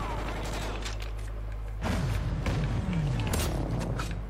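A Vector submachine gun fires in Call of Duty: Ghosts drop zone play: loud, rapid bursts of gunfire with booming impacts over a droning background, with brief talk mixed in.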